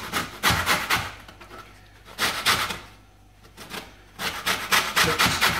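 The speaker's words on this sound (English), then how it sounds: "Just grate this." Lemon peel scraped over a grater in steady, loud rasping bursts, three groups of quick strokes separated by brief pauses, with no talking.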